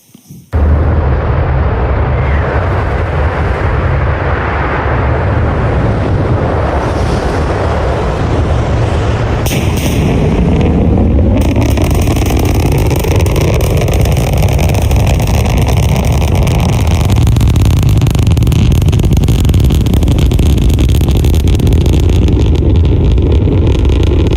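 A loud, continuous rumbling roar with crackling texture from a Starship rocket launch, steady and powerful throughout, thundering at a distance.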